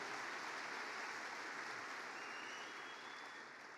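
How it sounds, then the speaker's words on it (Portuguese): A church congregation gives sustained, dense applause after a staged scene at a sermon, steady and loud throughout and fading slightly near the end. "Vamos dar um aplauso aí para os dois"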